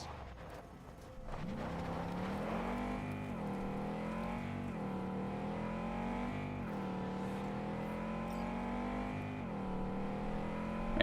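In Cyberpunk 2077, a car engine rises out of a quiet start and holds a steady loud drone, revving up and easing back through a few gear shifts in a smooth rising-and-dipping pattern, with no voices over it.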